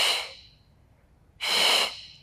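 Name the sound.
exhaling breath during Pilates exercise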